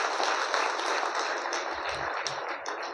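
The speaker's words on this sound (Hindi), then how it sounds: "ज़बरदस्त ताली लगाइए अपने लिए" Audience applause at a live motivational seminar, a dense continuous wash of clapping from a large crowd, steady and fairly loud across the clip with no talk over it.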